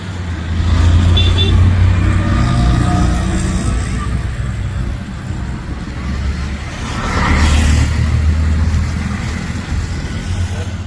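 Traffic at a college bus stop: a vehicle engine rumbles nearby, swelling twice as motor traffic passes, with a brief horn toot and some background voices.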